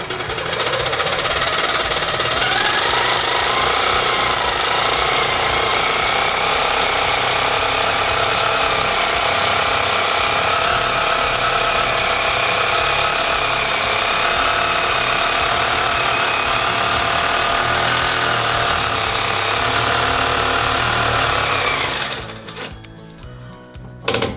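A longarm quilting machine runs a long straight basting line across a T-shirt quilt, a loud steady mechanical whir and rapid needle chatter holding constant for over twenty seconds before cutting off abruptly.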